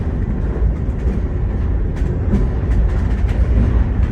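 A train rumbles past on an Illinois rail line, a steady low roar with faint clicks and rattles throughout, heard from aboard a rail car.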